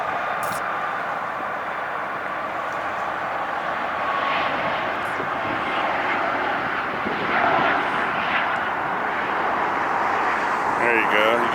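Lufthansa jet airliner at LAX airport, its engines producing a steady, continuous roar that swells slightly toward the end, with someone talking over it throughout.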